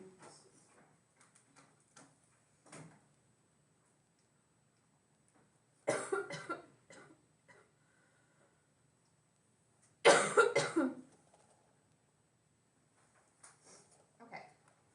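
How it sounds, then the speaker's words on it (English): Several separate coughs, two louder bursts among quieter ones, in an otherwise quiet room during a math class, with short gaps of near silence between them. "You know when you try not to cough, it gets worse."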